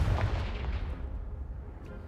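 A Confringo fire spell in Hogwarts Legacy bursts with a loud, close, booming blast that rumbles low and fades over about two seconds.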